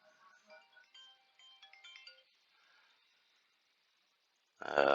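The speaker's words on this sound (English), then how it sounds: "I have received a phone call." A phone ringtone plays for an incoming call, a faint melodic electronic tune in short bursts, fading out before a sudden louder noise at the end.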